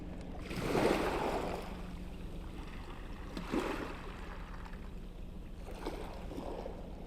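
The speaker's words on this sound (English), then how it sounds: "there's a few little tiny waves just lapping on the shoreline" Small waves lap gently on a shoreline, three soft washing swells spaced a few seconds apart, each rising and fading over a quiet steady background, no voices.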